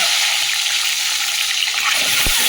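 Eggs frying in hot oil seasoned with salt and turmeric in a home kitchen, a loud, steady, close sizzle with a single soft knock near the end.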